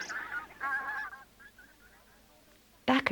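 Geese honk in a park, several nasal calls in a quick cluster, then a faint pause before one more loud, close honk at the end.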